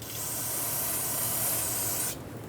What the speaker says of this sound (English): go ahead and clean it up with brake parts cleaner